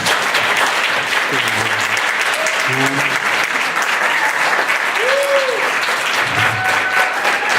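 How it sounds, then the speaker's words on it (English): An evening talk audience gives a presenter another round of applause, dense sustained clapping filling the room throughout, with a few brief voiced whoops or calls rising out of it. "Can we give Teal another round of applause?"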